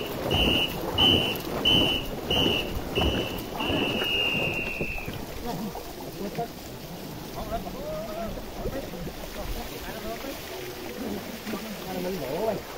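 Heavy rain pours steadily with rolling thunder rumbling low beneath it, and people talk intermittently while a brief high tone beeps a few times early on.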